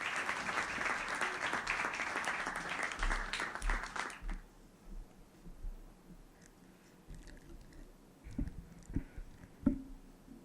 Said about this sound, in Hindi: तालियों से सहयोग प्रदान